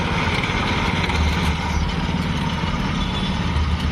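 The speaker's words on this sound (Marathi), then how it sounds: "सात H P four stroke petrol engine आहे" A 7 HP four-stroke petrol engine on a chain-track cultivator runs steadily nearby, a continuous low, throbbing drone with constant loudness and no talk.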